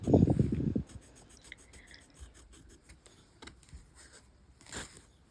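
Soft scratchy rubbing of a pencil on paper, with a louder muffled thump at the start and faint intermittent strokes after.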